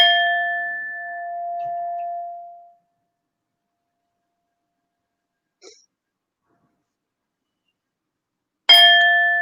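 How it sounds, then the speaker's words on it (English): A meditation bell rings once to open a mindfulness practice, a clear sustained tone that fades over about two seconds. After a long silence comes a faint tap, then a second loud strike that rings on. "we can start with the bell"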